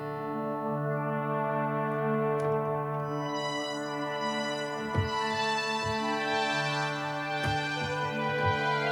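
A soloed Faux Guitar preset from the iZotope Iris 2 sample-based synth plays sustained, harmonically rich chord tones. Occasional plucked attacks mark the note changes as the sound rings on steadily at moderate level, with no talking.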